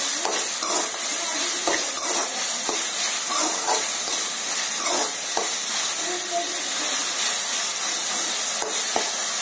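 Tomatoes frying in a pan for a tamarind bitter gourd curry, with a loud continuous sizzle and hiss and repeated scraping clinks of a spoon stirring, close up and without speech.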